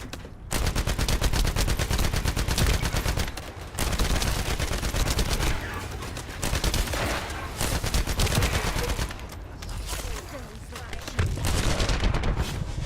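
Gunfire from a sniper and other weapons in the video game The First Descendant, a loud, dense stream of rapid shots and bursts that runs almost without pause, with short breaks near the start and middle.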